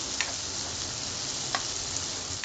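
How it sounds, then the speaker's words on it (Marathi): Onion and finely chopped tomato are stirred in a hot pan for kheema pav, giving a steady soft sizzle with a few faint scraping strokes of the spoon, fairly quiet and with no voices. "आता हे सर्व चांगलं मिक्स करून घ्यायचं।"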